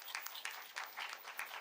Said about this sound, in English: Can we applause